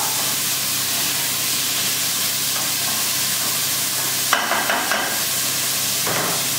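Bacon frying in a hot cooking pot, a steady close sizzle and hiss throughout, with a few brief stirring clatters and bursts of spatter near the end.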